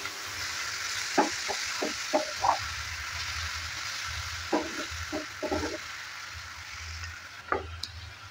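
Pumpkin and fenugreek leaves being stir-fried in a pan: a soft continuous sizzle underlies two bursts of rhythmic spatula scrapes, about five strokes each, then a single later scrape, close and moderately quiet.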